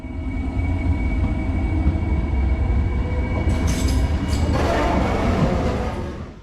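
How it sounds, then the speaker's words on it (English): A Dutch MAT 64 electric multiple unit built by Werkspoor, a 140 km/h Plan T or Plan V set, rumbles loudly and steadily close by, its roar swelling with a brighter hiss and squeal in the second half before easing off. "This is the MAT 64, part of a series of 4-car Plan T or 2-car Plan V, 140 km/h capable electric multiple units"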